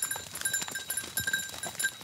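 Goats on a farm near Uzès move about close by, with bells and a jingling clatter in quick, uneven bursts at moderate loudness and no talking.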